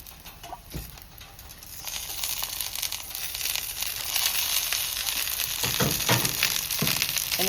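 Kebabs crisping in plenty of oil on a grill, a steady sizzle and crackle that grows louder and denser as it goes, with a few clanks and scrapes.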